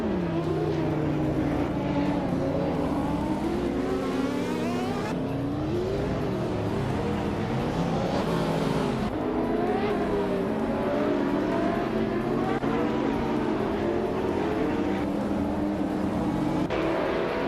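Race car engines roar continuously in a racing video game, several cars revving and shifting pitch as they jostle at close range, a dense unbroken drone with rising and falling whines throughout.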